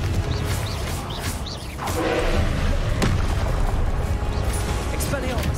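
A Confringo blasting spell goes off in the video game Hogwarts Legacy with a deep boom and crash, heard under a talking voice and busy game noise.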